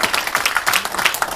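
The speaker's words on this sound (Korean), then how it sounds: "박수 쳐도 안 됩니까?" A short, close burst of audience clapping at a political assembly: many hands patter quickly and unevenly with no voices over it.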